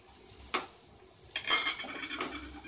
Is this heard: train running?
no